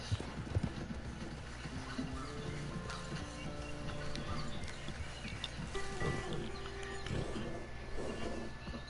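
Horse hooves clip-clopping at a steady gait across the ground in Red Dead Redemption 2, moderately loud and continuous under game ambience with a brief soft whinny.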